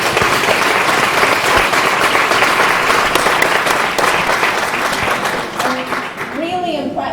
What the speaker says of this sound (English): I'd like to give them a round of applause for showing up tonight.